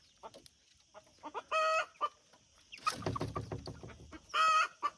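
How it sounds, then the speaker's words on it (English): A hen gives a string of short clucks close by, broken by two longer, loud drawn-out calls and a burst of busy squawking in the middle. "a very intelligent little hen"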